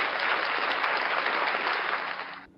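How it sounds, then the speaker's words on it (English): Audience applause at a live comedy-style stage show, a steady dense wash of clapping that holds evenly for over two seconds before cutting off abruptly, with no voices over it. "Ladies and gentlemen, another round of applause for Doc Danger"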